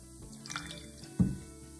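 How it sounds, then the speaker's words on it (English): A single drop of water lands with a soft, wet plop into a cup of leftover blue acrylic paint mixed with Floetrol, heard close and quiet against faint background hiss. "now I added about a teaspoon of water to that"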